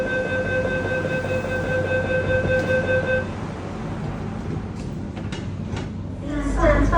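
Train doors closing on a railway, a steady multi-tone warning chime over rumbling platform noise for about three seconds, then a softer thud and hiss as the doors shut, with faint voices nearby.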